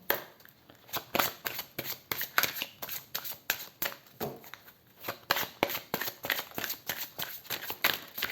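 Lenormand oracle cards being shuffled close up in a series of quick riffling bursts. The dry flutters and soft slaps come in an uneven rhythm with short gaps between them.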